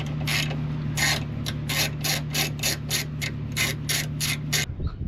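A ratchet loosens the shock reservoir mount bolt on a 2021 Jeep Gladiator Mojave, a close run of about a dozen rhythmic clicking strokes over a steady low hum, then stopping.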